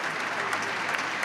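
Steady applause from an audience at a Central European Forum event in a Slovak primary school setting, dense and continuous through the brief moment.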